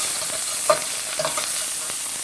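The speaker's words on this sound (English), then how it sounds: "Let's do ginger. Stir that around." Ginger being stir-fried in a pan for a Chinese-style bok choy and kale dish: a constant hiss of frying with a few sharp scrapes of stirring near the start and middle.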